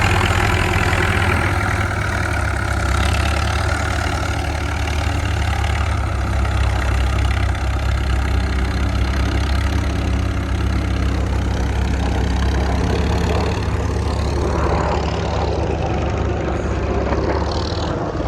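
A Ferguson 180 tractor engine idles with a loud, steady low rumble that continues unbroken throughout.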